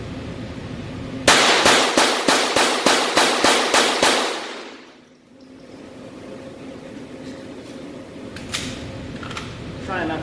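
A Glock 44 pistol fires a rapid string of 10 sharp, evenly spaced shots at close range, followed by a quieter outdoor range background with faint distant pops.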